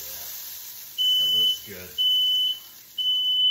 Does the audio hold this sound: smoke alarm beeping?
yes